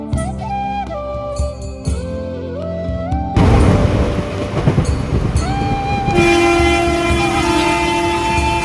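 A passenger train travels from Pazhayangadi railway station toward Kuttippuram, with loud rumbling carriages and clattering wheels, a tonal horn blast near the end, and a sudden jump in loudness partway through, with no speech.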